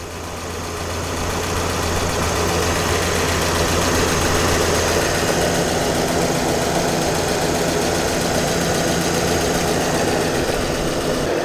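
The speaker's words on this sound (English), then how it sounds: "Super mindful of that big fan whirring away at the front there" A V8 engine idles steadily, close and loud, with the whir of a big radiator fan at the front rising in after the first second and running on without talk.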